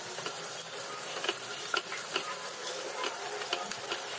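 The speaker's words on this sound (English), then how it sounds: "We're going to fry the onion till it's nice and translucent." Chopped onion and whole spices fry in a pan for Goan rice pulao, giving a steady soft sizzle with scattered small pops and stirring clicks, close and moderate in level with no talking.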